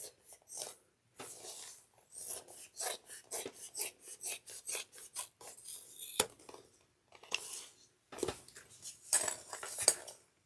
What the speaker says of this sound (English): We're going to trim these seam allowances down to 1/4 of an inch.